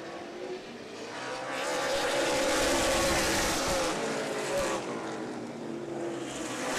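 Race cars roar together down the backstretch of a high-banked oval speedway during a 100-lap feature, a loud sustained engine drone that swells and holds without pause.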